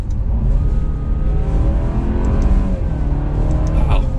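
A 2021 Alfa Romeo Giulia Sprint downshifts and then accelerates, its engine and exhaust holding a steady, loud drone from inside the moving car.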